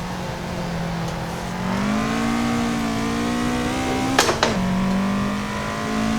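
A Toyota AE86 in Assetto Corsa drifting without the handbrake, its engine holding a steady high rev that climbs, dips sharply for a moment with a brief tire chirp, then settles back to a sustained drone.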